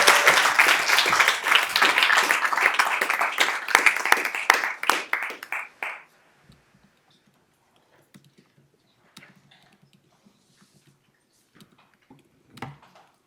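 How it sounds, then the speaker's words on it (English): Board meeting audience giving a round of applause, brisk clapping for about six seconds that tapers off into near silence, with only a few faint scattered claps and taps after. "Let's all give a big round of applause for Miss Kate Lyons,"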